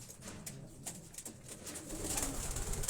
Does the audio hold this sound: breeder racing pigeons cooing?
yes